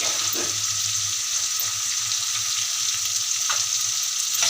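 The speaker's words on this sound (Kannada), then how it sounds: "ಚೆನ್ನಾಗಿ ಫ್ರೈ ಮಾಡೋಣ" Turmeric and chili-ginger paste fry in a pan for avarekalu uppittu, a steady close sizzle with a few light stirring scrapes and no talking.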